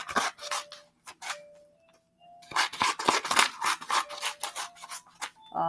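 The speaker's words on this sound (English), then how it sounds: "Again, I just cut strips." Scissors snip through two stacked pages of paper, cutting strips for a dinosaur nest craft; close, crisp rasping cuts come in a quick irregular series after a brief pause, with no speech.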